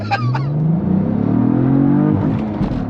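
A 2022 Cadillac CT4-V Blackwing with a 6-speed manual accelerates hard, its engine note climbing loud and close through a sustained rev, with a brief shift-like dip near the end and no talking.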